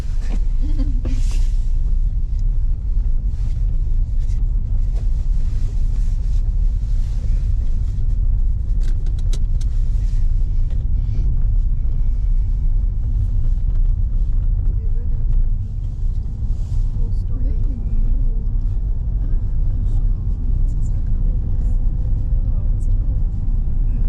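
Car driving along a South African country road, a steady loud low engine and road rumble inside the cabin with occasional bumps and rattles, while people talk over it.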